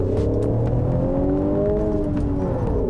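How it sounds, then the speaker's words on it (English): A diesel Peugeot 308 (2017) revs up close, with steady engine harmonics rising and falling under a continuous loud drone, its engine note amplified through the cabin. "Just give you a little bit more of that engine note."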